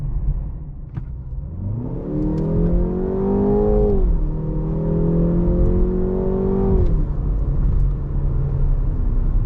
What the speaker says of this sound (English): we'll get it up to 25, mash the throttle, and see what happens